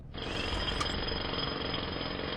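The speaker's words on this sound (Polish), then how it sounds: "With the jackhammer making so much noise outside, nobody will hear a few blows on the door." Jackhammer pounding at a construction site outside in the video game Memento Mori, a loud continuous rapid hammering that starts abruptly and holds steady throughout with no voices.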